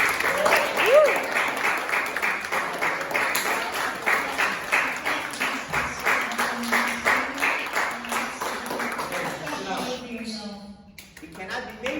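Students and guests at a 7th grade sukkah fair give a round of applause, a rhythmic clatter of many hands at moderate level with chatter underneath, fading out near the end.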